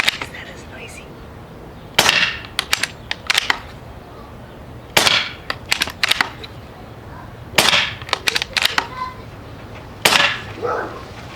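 Umarex Gauntlet 2 air rifle fired without a moderator: several loud, sharp cracks spaced a few seconds apart, each followed by short clicks and clatter of the action being cycled.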